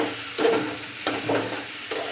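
Jackfruit curry fries and sizzles in a pan while a spoon stirs it, with three sharp scraping strokes against a steady background hiss and no talk.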